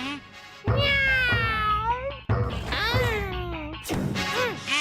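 Cartoon cat from a Motu Patlu episode meowing, long drawn-out wailing meows in several bursts, loud and close over a soft music backing.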